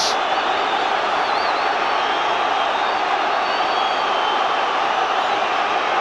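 A dense football stadium crowd at a Celtic v Rangers match roars loudly and continuously, a steady wall of cheering and shouting with no pauses.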